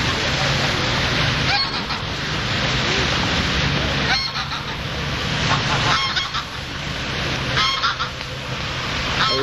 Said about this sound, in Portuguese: aqui começa com os patos